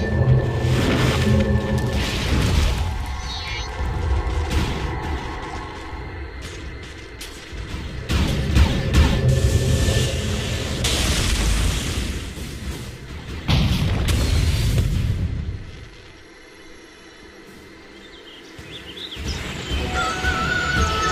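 Tower attack in Dota 2 brings repeated booming explosions and impact blasts amid dense game effects, with bird-like chirps and a brief quieter stretch before the clashes resume.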